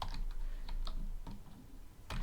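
Irregular clicking of keys on a computer keyboard, a handful of separate taps spaced unevenly, fairly close and soft.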